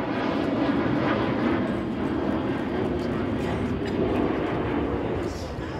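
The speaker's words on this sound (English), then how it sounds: "I'm gonna wait for this plane to pass." An airplane passes overhead during an outdoor rally, making a steady, broad rumbling roar that holds for several seconds and fades slightly at the end.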